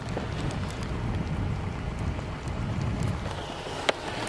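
Steady mountain rain patters down outdoors near Botlikh, Dagestan, with a soft, even hiss, gusts of wind buffeting the microphone and occasional sharper drops standing out.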